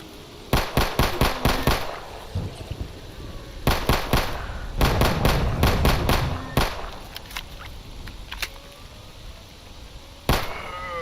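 Gunfire in the game STALKER Anomaly comes as sharp, loud bursts of rapid automatic shots, grouped in clusters with short pauses and scattered single cracks between them.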